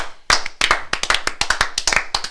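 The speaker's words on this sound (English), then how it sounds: "Let's clap out. Let's just clap out." A small youth group claps hands together at the close of a live church stream, a quick run of sharp, uneven claps lasting a couple of seconds, close and loud with no talk over it.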